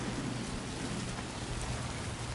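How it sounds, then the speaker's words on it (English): Rain in the video game Death Stranding, a dense steady hiss of rainfall on surfaces filling the whole scene, constant and fairly loud with no talk. "Obviously this is rainy"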